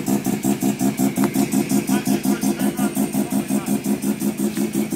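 A rotary engine idles with a rough, lumpy rhythm, pulsing steadily about four times a second at close range and moderately loud, with no speech over it.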